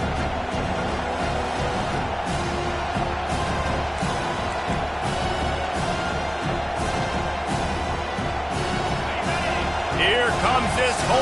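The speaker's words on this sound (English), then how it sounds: "Here comes this home crowd as the defense tries to get off the field on 3rd down" Home crowd at an American football game roars steadily and loudly throughout, a dense wall of cheering and noise on third down, with a commentator talking over it.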